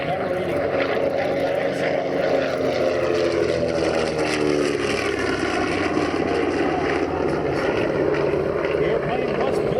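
Propeller engines of a WWII bomber, a Canadian-built 1945 Lancaster in Royal Canadian Air Force markings, droning loud and steady throughout with a deep, rough rumble and a slowly shifting pitch.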